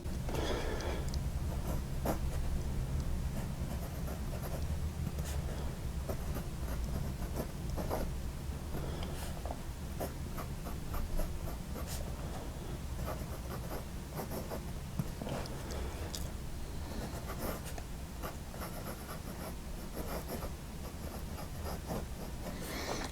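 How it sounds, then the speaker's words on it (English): A Yiren fountain pen with a stiff nib writes on paper, giving close, continuous scratchy strokes with short breaks between letters and words, fairly loud and with no talk. "And then you can hear that nib on the paper."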